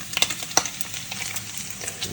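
Strips of bacon frying in a pan give a steady close sizzle, with a few sharp crackles and pops early on and quieter spitting afterward, and no voices.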